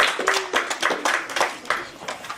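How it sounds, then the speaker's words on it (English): Scattered, sparse clapping from a small panel discussion audience, distinct individual claps with a faint tone and murmur in the background. "Can we have a round of applause for our panellists?"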